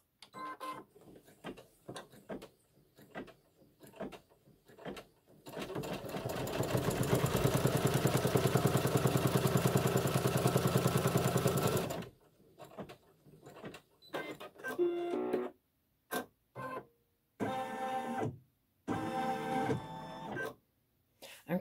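A sewing machine stitches down a quilt block in one sustained, fairly quiet run of about six seconds, framed by short stop-start bursts of stitching and handling clicks.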